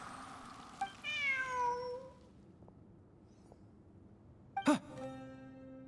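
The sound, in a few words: cat meowing in video game Genshin Impact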